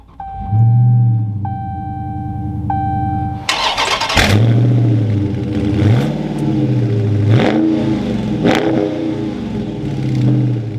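A 2021 Dodge Charger Scat Pack V8 cranks and fires into a loud, close startup flare, then settles into a rumbling idle with several sharp revs rising and falling, following a steady chime-like warning tone.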